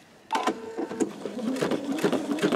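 A Brother embroidery machine stitches a design onto a greeting card, a rapid rattling whir of needle strokes starting abruptly after a brief quiet moment and running steadily, close and alone.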